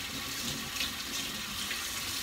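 Water runs steadily from a tap while salted cabbage is rinsed for raw kimchi, a continuous close splashing hiss with no breaks.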